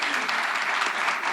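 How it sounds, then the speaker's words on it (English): A crowd at a YMCA gathering for a governor's announcement breaks into sustained applause, dense even clapping that holds at a steady level throughout. "Let's give them a round of applause."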